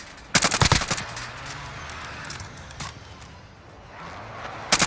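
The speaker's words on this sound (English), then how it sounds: "I'm being shot, man, but I can't tell where from." Automatic gunfire in Call of Duty Warzone, KRIG 6 rifle with suppressor: a loud rapid burst opens, a single sharper shot follows, and another burst closes, with steady game ambience between.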